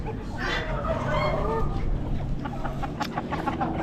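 Golden Laced Wyandotte chickens cluck softly nearby in a small flock at an animal auction, with scattered higher calls over a low outdoor rumble.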